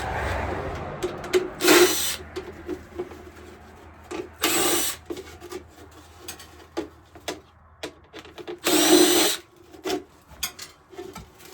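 Impact driver driving small screws while installing an old Canadian wood stove in a cabin, three loud buzzing bursts of a second or so each, separated by quieter knocks and handling noise.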